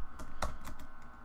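Rapid keystrokes clatter on a computer keyboard, about eight quick taps in a second and a half, close and clear.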